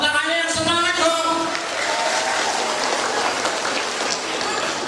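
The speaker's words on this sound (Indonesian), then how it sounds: "Tepuk tangannya yang semangat dong." Audience applause at a marketing training session, a dense, even patter of clapping filling the whole stretch, with brief voices heard at the start before the clapping settles into a steady wash.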